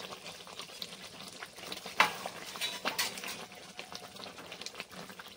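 Fried potatoes are stirred into mutton in a pot for Kolkata-style biryani. A soft, continuous sizzle runs under scraping and clinking of a spoon against the pot, with a sharper metallic knock about midway.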